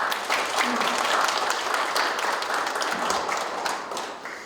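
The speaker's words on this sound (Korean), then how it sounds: "두 분께 박수를 보내드리겠습니다" A room full of people applauds at an investment MOU signing ceremony, steady clapping that swells and then slowly tapers off.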